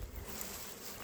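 Honeybees buzz around a hive that has swarmed, a brief, dense hum heard close and fairly faint with no voices.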